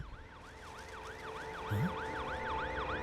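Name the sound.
ambulance siren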